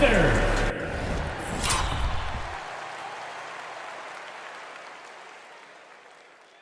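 A basketball arena crowd erupts in loud cheering and applause after a buzzer-beating shot at halftime, roaring at first and then slowly fading, with an announcer's voice over the top at the start.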